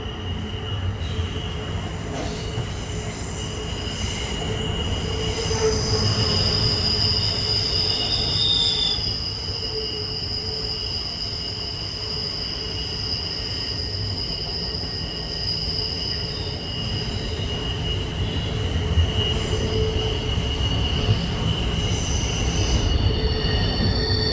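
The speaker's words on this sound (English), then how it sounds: "now we're overtaking westbound intermodal" An Amtrak Pennsylvanian passenger train overtaking a westbound intermodal freight near Altoona and Cresson, Pennsylvania, heard from on board as a loud, steady rail roar with sustained high metallic wheel squeal throughout.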